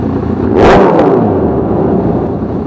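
A Kawasaki ZX6R motorcycle revs hard close by, its engine note surging to a loud peak and then settling into a sustained high whine; no talking.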